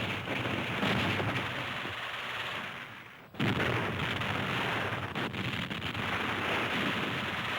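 WW2 battle footage of artillery fire during fighting for roads and villages near Moscow, a dense, continuous roar of gunfire and crashing blasts with one brief dip midway before the barrage resumes at full strength.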